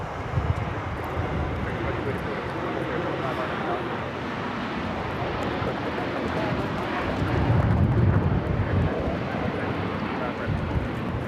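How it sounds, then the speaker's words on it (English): A United Airlines Boeing 757-300 takes off from LAX, its engines giving a steady, broad roar with a deep rumble that swells slightly midway, heavy wind noise on the microphone throughout. "This is United Airlines 1635 taking off to Washington Dulles on the 757-300."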